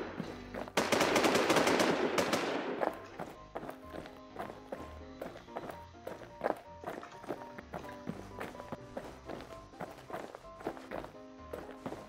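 Gunfire in the video game Infestation The NewZ battle royale, a dense rapid burst early on, then scattered shots and clicks with footsteps continuing at a lower level.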